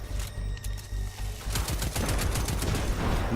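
Gunfire rattles in rapid bursts while enemies are picked off in the video game Destiny 2, loud and close, with repeated shots growing denser toward the end.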